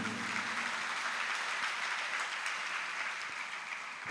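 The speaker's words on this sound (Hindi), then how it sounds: "उनका स्मरण करते ही तालियां बजती हैं" An audience at a religious discourse claps steadily, a moderately loud, even patter of many hands that continues for the whole stretch without speech.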